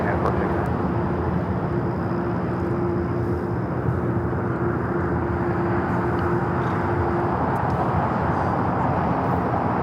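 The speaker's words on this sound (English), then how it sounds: "United Airlines 469 taking off to SFO, San Francisco on the A320" A United Airlines Airbus A320 jet taking off at Los Angeles airport, a steady loud engine roar with a sustained tonal whine throughout, and a voice talking over it.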